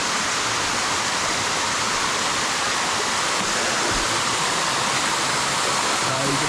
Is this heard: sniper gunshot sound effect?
no